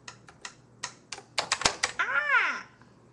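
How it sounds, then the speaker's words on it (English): A young child bangs on a computer keyboard at home, producing a burst of irregular, increasingly loud clicks and clacks, followed by a short high-pitched child vocalization. "Don't do that to the keyboard."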